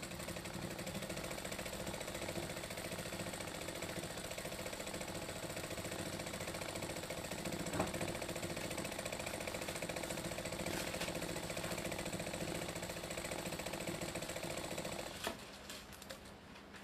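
A sewing machine runs steadily for free motion quilting on a preprinted panel, with a fast, even mechanical whirr and needle clatter that continues close by and stops near the end.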